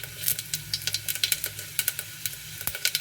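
Cumin seeds crackle and sizzle in hot oil as they go in for a spiced masala khichdi, a dense run of sharp pops over a steady frying hiss, close and fairly quiet with no voices.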